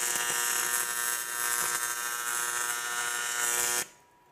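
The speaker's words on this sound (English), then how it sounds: "he's going to tack it and simulate some pipe welding" A SMAW stick welding tack on steel tubing gives a steady, loud, close crackling buzz that holds for about four seconds and then cuts off abruptly, leaving near silence.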